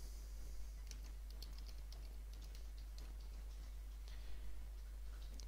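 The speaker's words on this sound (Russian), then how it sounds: "Далее вводим команду «Disk Part»." Keys clatter on a computer keyboard as a command is entered at the command prompt, a faint, quick run of light clicks over a low steady hum, with no talking.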